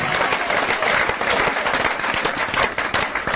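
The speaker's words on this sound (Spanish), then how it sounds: "Démosle un aplauso al Señor" A church congregation claps together in sustained, dense applause, the hand claps crackling evenly throughout with no voices standing out.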